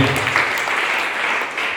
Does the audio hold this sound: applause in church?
yes